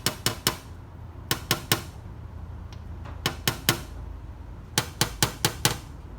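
A hammer pecks at high spots on an aluminum panel in quick bursts of three to four sharp metallic taps, with short pauses between groups, close and clear over a quiet room.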